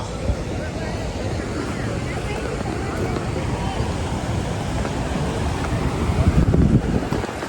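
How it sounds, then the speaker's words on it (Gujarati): Continuous rushing water at Jamjir waterfall in Gujarat, a dense steady roar with wind buffeting the microphone, swelling slightly louder toward the end. "અહીંયા સતત પાણી વહેતું રહે છે"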